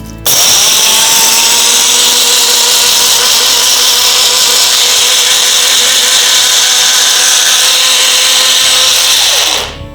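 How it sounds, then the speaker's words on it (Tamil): A mixer grinder blending moringa leaves, soaked green gram and kasturi turmeric with a little water, a loud, steady motor whine running nearly ten seconds before cutting off abruptly. "முருங்கைக்கீரை பச்சைப்பயிறு கஸ்தூரி மஞ்சள் இதோட கொஞ்சமாக நீர் விட்டு அரைச்சிடலாம்"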